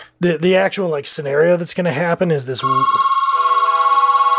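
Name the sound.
telephone ringing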